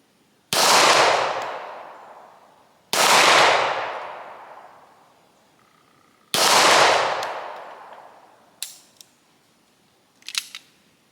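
Five shots from a WWII German P38 pistol fired at a target about 20 yards away outdoors: three loud, sharp reports with long decaying echoes, spaced a few seconds apart, followed by two fainter, shorter cracks.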